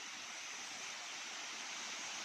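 Balete Falls in Amadeo, Cavite, pours as a steady, soft rush of falling water, heard faintly from a distance and unbroken throughout, with no voices.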